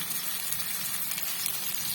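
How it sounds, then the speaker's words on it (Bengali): Pumpkin slices frying in hot oil in a kadai, a steady close sizzle with faint crackles running throughout, no voices. "তেলটা আমার গরম হয়ে গেছে। একে একে আমি কুমড়োগুলো এর মধ্যে দিয়ে দেবো।"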